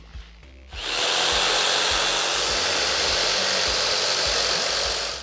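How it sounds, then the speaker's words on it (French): A jigsaw cuts through wood panelling along a wall, starting after a brief quiet moment and then buzzing continuously at close range for several seconds. "c'est un petit coup de scie sauteuse"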